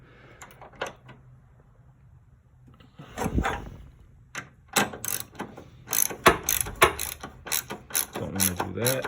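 Ratchet loosening support bracket bolts on a 2012 Chevrolet Impala, rapid clicking pawl bursts in irregular runs after a quiet start, close and loud.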